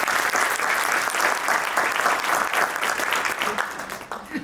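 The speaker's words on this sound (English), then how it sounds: "One big round of applause," An audience applauds at a land banking summit, a dense, loud, sustained clapping that holds steady for several seconds before thinning slightly at the end.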